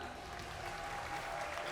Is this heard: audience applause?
yes